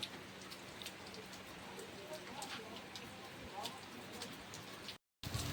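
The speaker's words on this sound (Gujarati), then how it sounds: "ફૂલ વરસાદ આ આવ્યો" Heavy rain pours steadily in a village, a loud constant drumming on surfaces with voices faintly beneath it, then the sound briefly cuts out near the end.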